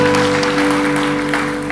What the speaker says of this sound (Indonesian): ada yang mau tepuk tangan katanya tadi ya